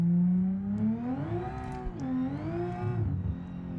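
A modded car engine revs and accelerates while driving, its droning tone rising, dipping and climbing again in pitch over a few seconds, loud and close with no talk.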